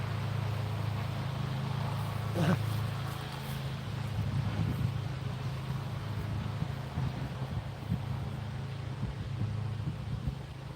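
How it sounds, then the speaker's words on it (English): Far off in the woods, a tractor mows grass and small trees; its low engine drone hums steadily and faintly under wind noise at a campsite, with a brief sharper crack partway through. "That sounds like a tractor mow or something."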